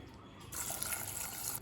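Water pours into a pot of soaked chickpeas being readied for pressure cooking. It makes a soft, continuous splashing rush for about a second, fairly quiet and close, with no speech.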